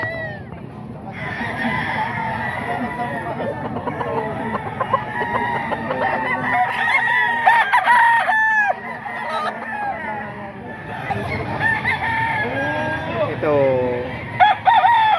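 Several roosters crow repeatedly with clucking and squawks in a busy game-fowl area near a grotto, with men chatting throughout underneath.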